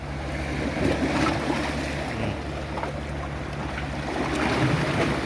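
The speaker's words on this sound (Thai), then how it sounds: "มันจะเป็นคลื่นมา" Sea waves rolling onto a shore, a steady rushing wash with surges that swell and fade at intervals, heard up close with some wind and no speech.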